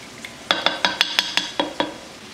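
A metal spoon stirs beef broth and tomato sauce in a pot for beef chili, clinking against the side in a quick run of about nine evenly spaced taps over a low simmering background.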